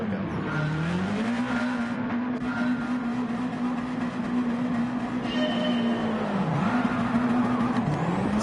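Race car engine in Gran Turismo 7 roaring at a steady high pitch with wheelspin off the start of a BTCC race, a loud continuous drone that dips briefly and climbs again, no talking.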